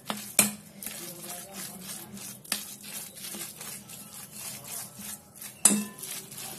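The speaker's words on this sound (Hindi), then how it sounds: "और अब मिक्स कर लेंगे सभी चीजों को।" A spoon stirs moong dal batter mixed with turmeric and spices in a bowl, making a steady wet scraping rhythm with two sharp clinks against the rim, close up.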